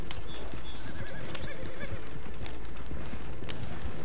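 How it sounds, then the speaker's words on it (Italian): A horse in the video game Red Dead Redemption 2 whinnies and its hooves clip-clop steadily while it skids to a stop with a braking scrape, loud and close throughout. "Mi avevo scordato che faceva tipo il rumore di frenata il cavallo."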